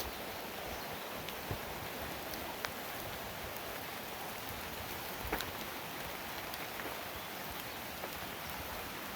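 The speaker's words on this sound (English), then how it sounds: "But we're just gonna sit underneath here now. Right, Remy? Get out of the rain." Rain falls outdoors at Hamma Hamma as a soft, even hiss with scattered faint drips, quiet and continuous with no voices.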